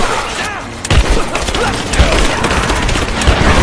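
Heavy gunfire during a firefight in Rise of the Tomb Raider: dense bursts of automatic fire and sharp booms pile up over a few seconds, loud and close, with shouted voices mixed in.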